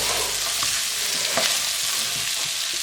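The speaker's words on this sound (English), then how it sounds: "So we're just going to stir fry that now" Okra stir-frying on high heat with spices and coriander for bhindi bhaji, a steady loud sizzle with a few scraping stir strokes near the pan and no talking.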